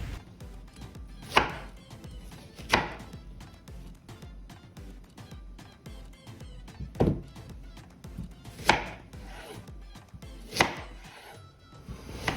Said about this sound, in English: 3 medium onions, we cut them